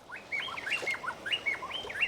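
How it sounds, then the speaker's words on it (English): Birds sing in quick, repeated chirping phrases, clear and fairly close, against a soft hiss of ambient background in a mangrove zone by a beach. "Some beautiful birds."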